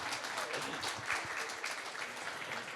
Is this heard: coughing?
no